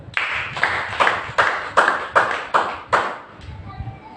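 A church congregation claps for Jesus in about eight loud, evenly spaced group claps, each a sharp burst fading into the next, ending with a brief pause and low murmur.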